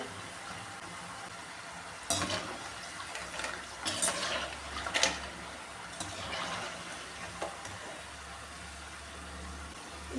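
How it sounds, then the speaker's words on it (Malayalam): Diamond cut dough pieces frying in hot oil and stirred now and then, a soft bubbling sizzle under several sharp clinks and scrapes of the ladle, fairly quiet overall with no voices. "ഇതിങ്ങനെ ഇടയ്ക്കിടയ്ക്ക് ഇങ്ങനെ ഇളക്കി കൊടുക്കണേ എന്നാലേ ഇത് എല്ലാ സൈഡും ഒരുപോലെ മൂത്ത് കിട്ടുകയുള്ളൂ"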